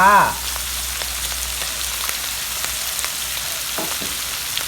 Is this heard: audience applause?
no